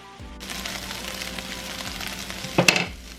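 Keto spaetzle fries in butter in a pan, a close, continuous sizzle with occasional stirring scrapes and a brief louder clatter near the end.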